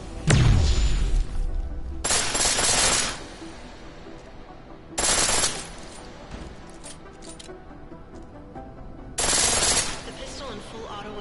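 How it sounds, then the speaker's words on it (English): A pistol firing in full auto in Deus Ex: Mankind Divided, three loud rapid bursts of about a second each spaced a few seconds apart, with quieter talk in between. "The pistol in full auto will take down targets fast, but it'll burn through your ammo."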